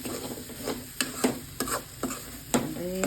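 Spring onion egg burji frying in a pan, a soft sizzle broken by a regular series of spatula scrapes and taps against the pan, with no talk.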